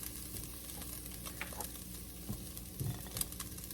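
Beef browning in a soup pot gives off a steady, low sizzle with faint crackles, a continuous frying hiss with no talking over it.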